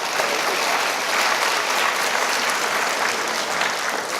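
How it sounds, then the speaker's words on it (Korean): Students in a lecture hall break into thick, continuous applause that stays at an even, fairly loud level throughout, with no distinct voices on top. "서로 박수 한번 치고"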